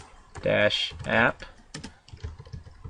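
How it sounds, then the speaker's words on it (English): Someone types a command on a computer keyboard in short bursts of close keystroke clicks, with a brief voice-like sound early on. "So we're going to type in Grails create-app"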